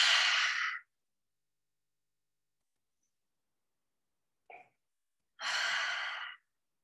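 Two long, airy open-mouth exhales in a calm yoga-style breathing exercise, each under a second, separated by near silence with a brief soft breath sound between them; close and fairly loud, no talk.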